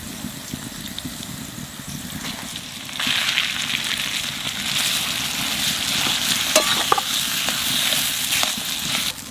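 Boiled potatoes with salt and turmeric are stirred in a pan over a village cooking fire, giving a soft continuous sizzle with scraping stirs that grow a little louder midway.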